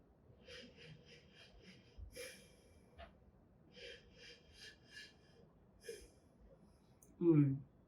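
Several short, repeated sniffs of Malbec wine in a glass, taken in quick succession, quiet and close, followed by a louder exhale.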